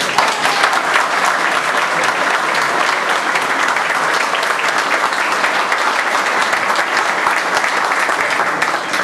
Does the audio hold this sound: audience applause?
yes